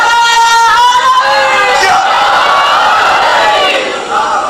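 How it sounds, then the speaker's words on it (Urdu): A large audience at a religious gathering chants slogans in unison, loud massed voices swelling and holding for several seconds before tapering slightly at the end. "یہ سب نعرے ہیں آپ کی طرف سے، آپ کے جذبہ ایمانی کے"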